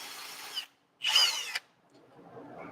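Power tool cutting a bolt apart in a garage, two loud whirring bursts, the second longer and harsher, separated by a brief silence and followed by a fainter low rumble.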